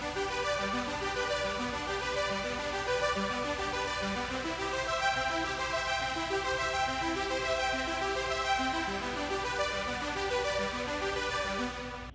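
Retro wave synth arpeggiator preset run through Valhalla reverb: a continuous stream of fast repeating synth notes washed in reverb, played at steady volume for the whole passage, with no voices.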